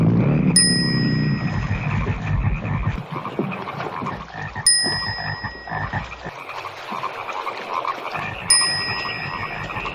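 Frogs croak repeatedly in the 1972 film Frogs, dense and close, broken by three bright bell-like dings spaced a few seconds apart over a murky background, with no talking.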